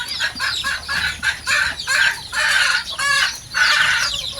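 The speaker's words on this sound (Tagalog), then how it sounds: "Ito yung mga aking mga bulik ko." Bulik chickens, roosters and hens kept as backyard pets, clucking and crowing in repeated bursts, loud and close, several birds overlapping with short pauses between calls.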